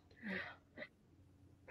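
A single sneeze bursts out near the start during a podcast recording, moderately loud and close, followed a moment later by a shorter, fainter breathy sound and then quiet room tone.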